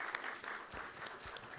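Short burst of audience applause after a panel at an international digital cooperation forum, dense even clapping from a crowd, moderately loud with no talk over it.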